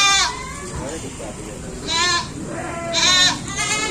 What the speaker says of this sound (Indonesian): Masih ada yang masukin kambing, masih ada yang nyeret-nyeret kambing teman-teman.